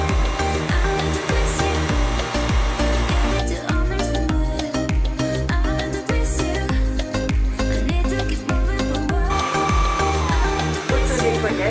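A cordless wet floor cleaner runs its automatic self-cleaning cycle with a loud, steady whirring motor and a continuous pulsing, churning rhythm throughout.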